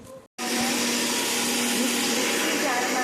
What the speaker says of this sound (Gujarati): સાકર ઉમેર્યા પછી આપણે એને મિક્સરમાં બ્લેન્ડ કરીશું.